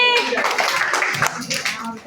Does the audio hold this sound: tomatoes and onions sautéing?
no